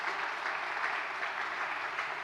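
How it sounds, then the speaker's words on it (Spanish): A church congregation claps for its volunteers: a soft, even roar of many hands applauding together, continuous and somewhat distant, with no voices standing out. "Denle un aplauso a los servidores."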